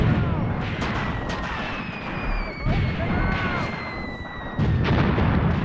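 Tank guns firing in a World War II Tunisia 1943 battle, heavy booming shots and explosions recurring every second or two amid steady battlefield rumble, with shouted voices faint in the mix.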